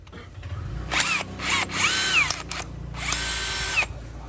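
Metabo 18V cordless hammer drill with a 13 mm chuck runs in several loud, close bursts, whining as it spins up and down between short pauses.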